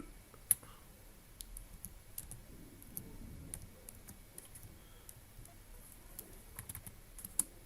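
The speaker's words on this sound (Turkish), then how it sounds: "Tek elde yazıyorum pardon" Keys on a computer keyboard tapped out one-handed in slow, uneven clicks, faint and close with no talking.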